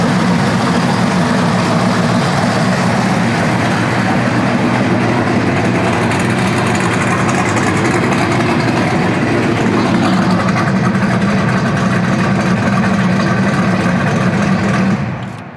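A 1968 Chevelle V8 idles loudly and evenly for about fifteen seconds, a constant close rumble without revving, fading out abruptly at the end.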